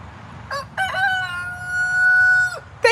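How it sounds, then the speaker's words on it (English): A rooster gives a loud, close cock-a-doodle-doo, a few rising notes stretching into one long held call, then the start of another crow as it ends. "Can we get a cock-a-doodle-doo?"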